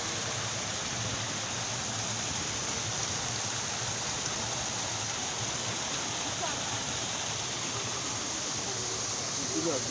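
A fountain in a Rome piazza splashes in a steady, dense rush of falling water that fills the whole stretch evenly, with faint voices underneath.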